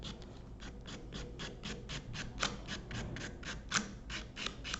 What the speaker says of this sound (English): So you're going to file the shine off the tip.